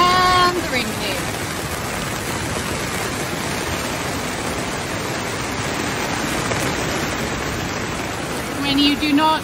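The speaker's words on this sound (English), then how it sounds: "And the rain came." Heavy rain pours steadily on a sailing boat in Scotland, a loud, dense hiss of drops with brief sounds from aboard at the start and end.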